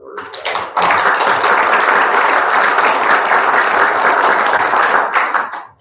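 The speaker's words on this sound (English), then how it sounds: "a round of applause is in order" Audience members at a Two Rivers city council meeting break into applause. A few scattered claps build quickly into loud, full, steady clapping that holds for about five seconds and then cuts off.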